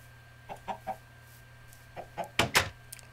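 Chickens in the Minecraft video game give several short, soft clucks spread through the moment, then a louder burst of two or three near the end, over a faint steady hum.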